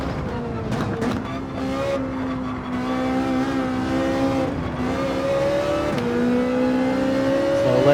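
Race car engines in a racing video game, a Ferrari 458 chasing a Ford GT race car, drone loudly and steadily, with pitch rising and falling through gear changes and revving under braking and acceleration.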